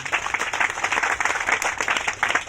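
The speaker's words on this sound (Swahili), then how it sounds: "Makofi kwa St. Anthony." Audience applause for St. Anthony at a ministerial speech to training participants, a steady dense patter of many hands clapping throughout, fairly close and even in loudness.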